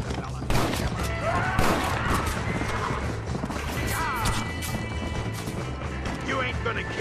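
Gunfire from high-powered weapons in a Red Dead Redemption shootout: dense bursts of shots and crashes, mixed with horse whinnies and clip-clop, continuing loudly throughout.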